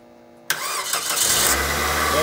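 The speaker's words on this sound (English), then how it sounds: "So now we'll give the car a quick crank." A car engine cranks briefly and catches after a boost from a battery pack or charger, a sharp onset followed by a steady, close idle; a voice is faintly present.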